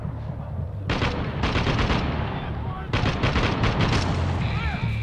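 Rapid turret gunfire in the shooter game Spec Ops: The Line, two long loud automatic bursts separated by a brief pause, with battlefield noise underneath.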